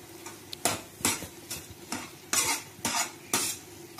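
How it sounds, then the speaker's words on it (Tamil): Carrot halwa simmering in milk in a pan, stirred with a spoon in repeated scraping strokes about every half second, close and clear over a faint bubbling, no voices. "அடி பிடிக்காத மாதிரி அப்பப்போ எடுத்து நம்ம கிண்டிட்டு இருக்கணும்"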